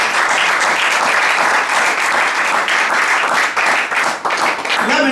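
A church congregation bursts into loud, sustained applause and cheering for Jesus during a French-language sermon, dense clapping filling the whole stretch and thinning slightly near the end.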